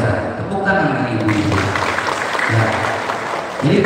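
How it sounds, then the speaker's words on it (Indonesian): Crowd applause from PKK and posyandu cadres at a village competition re-check event in Garut regency, a steady wash of clapping running through the whole stretch with voices talking over it. "tepuk tangan lagi ibu"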